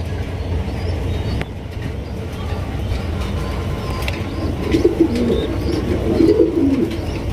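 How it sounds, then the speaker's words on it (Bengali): Black pigeons coo softly in a farm loft, low burbling calls emerging over a constant background rumble, fairly faint and intermittent, with no talking. "এখানে রয়েছে দুই কোয়ালিটির কবুতর"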